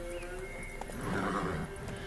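A horse neighs and gallops in The Witcher 3 video game, a clear whinny over rhythmic hoof clip-clop, close and alone without talk.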